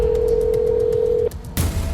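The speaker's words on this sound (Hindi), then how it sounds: "तो उसने अपना फोन निकाला और नील भानुशाली को फोन कर दिया।" A steady telephone dial tone when placing a call holds for over a second, cuts off, and after a short pause a louder burst of noise follows.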